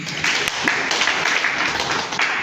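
Steady audience applause at a Catholic diocese lay leaders' gathering in Kigoma, dense and continuous clapping from many hands throughout, moderately loud with no talk over it.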